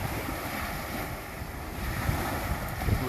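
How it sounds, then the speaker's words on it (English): Ocean waves and surf washing onto a Michigan beach, a continuous close roar of breaking water with wind buffeting the microphone, rising slightly toward the end. "Nothing like waves and a beach, surf."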